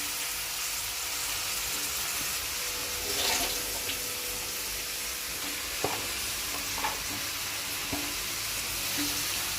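Soaked green peas being stirred and fried with softened onions in a pan for a homemade gobi and peas curry, a steady soft sizzle running throughout with a few light scrapes and clinks of the spoon.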